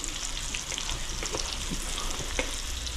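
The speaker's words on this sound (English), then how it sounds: "while I'm cooking the tortillas" Tortillas cook in a hot pan with a steady, close sizzle and faint crackles throughout, no talking.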